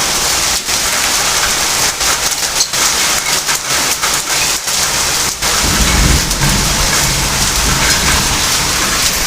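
Heavy rain mixed with large hailstones pours down steadily in Bethamcherla, a dense, loud roar that swells toward the end with occasional brief dips, and no voices.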